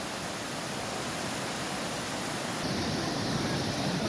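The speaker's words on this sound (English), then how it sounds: "So here's the waterfall itself." Torc Waterfall rushing steadily, a dense broadband roar close by that fills the whole clip without a break and grows slightly louder partway through.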